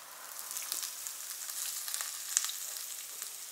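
Crushed coconut frying in a pan for chena thandu thoran, a soft, steady crackling sizzle with scattered small pops, fairly faint and close, no voices.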